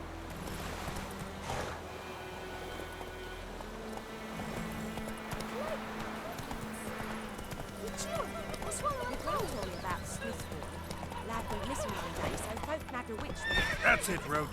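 Horse galloping with steady clip-clop hoofbeats and a neigh in The Witcher 3, set in White Orchard, under game music, with a voice talking over it.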